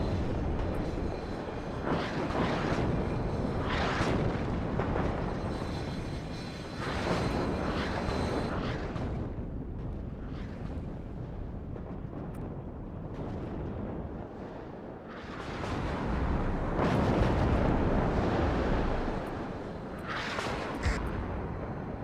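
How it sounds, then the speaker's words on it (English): A loud ammunition explosion in the WARNO war game swells into a long, dense roar of rumbling blasts and crackling debris that rises and fades in waves for about twenty seconds. "the ammo explosion's not very good"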